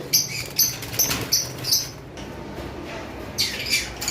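Lovebirds in cages at a bird shop, violet double factor masked pairs among them, give a run of short high chirps and squeaks in quick bursts, close and fairly clear, with a pause in the middle before more calls.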